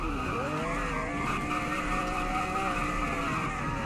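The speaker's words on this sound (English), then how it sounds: "the braking from 240 is pretty realistic since it's gonna take a while, you know, to brake from 240" A car in a racing video game brakes hard from 240, a continuous loud tire squeal and skid sustained over engine noise without pause.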